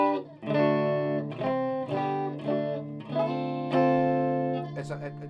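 Clean notes and short chords on a Stratocaster with pickups switched into humbucker mode, plucked one after another with gaps between, ringing clearly and close up.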